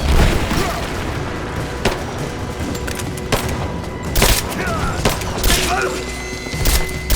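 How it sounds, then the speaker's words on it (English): Gunfire in the video game Rise of the Tomb Raider: loud, repeated shots and heavy booming impacts come in irregular bursts, with voices calling out over the battle. "Open fire!"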